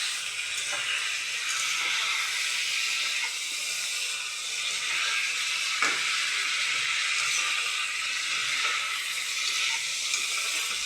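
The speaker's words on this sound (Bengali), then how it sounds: "দেখো আমার মশলা কষানো হয়ে গেছে" Masala spice paste with vegetables frying in a pan for a pointed gourd (potol) curry, a loud, dense, continuous sizzle and hiss heard close up throughout, with faint stirring scrapes and no voices.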